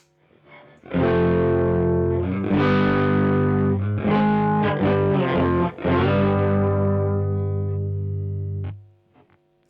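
Electric guitar played through a doubler pedal and summed to mono, giving a thick, slightly phasey doubled tone; sustained chords ring loudly for about eight seconds with a few re-strikes, then fade out, with no talking.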